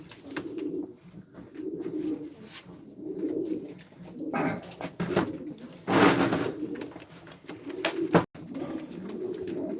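Pigeons at a live Turkish pigeon auction coo in repeated low rolling bursts, fairly close and steady, with a few sharper noises and brief rustles between calls.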